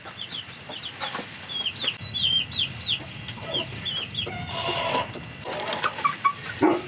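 Chickens cluck and chirp steadily around a flock of birds, with busy rustling and scratching nearby and a louder squawk near the end. No talking.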